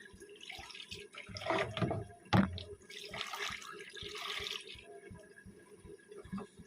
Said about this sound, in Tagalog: Hugasan pa natin ito siya.